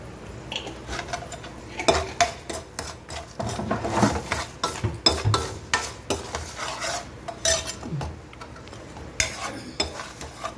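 Spoon stirring and mixing turmeric, salt and puliyogare powder in a metal bowl or pan, producing steady scraping and clinking strokes close up, with no speech.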